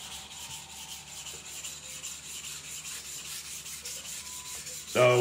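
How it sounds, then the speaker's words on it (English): A knife blade rubbed back and forth on a sharpening stone while polishing, a soft steady rasping scrape at close range, with a louder knock at the very end. "I'm really letting the knife slide back and forth on the stone."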